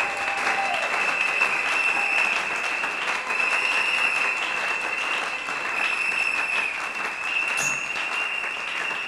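A church congregation at a pastor's service breaks into sustained, loud applause mixed with cheering and scattered shouts, continuing without a break.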